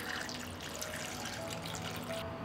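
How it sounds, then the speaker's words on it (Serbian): Water poured into a cooking pot holding glass jars, filling it up to their lids: a steady, close splashing rush that runs unbroken throughout. "Sipat ću i vodu do visine poklopca."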